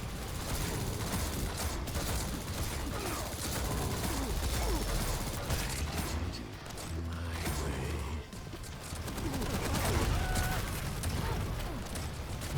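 Rocket launcher fire in the arena shooter Quake Champions: a constant, dense barrage of blasts and mechanical clatter with no pause for the full twelve seconds, loud and close throughout.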